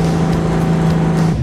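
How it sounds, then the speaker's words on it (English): A deep, steady AMC Javelin muscle car exhaust rumble drones throughout, loud and close, with a low throbbing tone. "it's the sound of the pipes under the car, rumbling like a thunderstorm"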